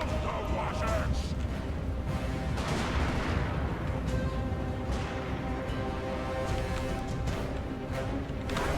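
Dwarf artillery bombs fire in a Total War: Warhammer battle, a dense run of booming blasts and crackling impacts rolling over each other across the whole stretch, loud and busy.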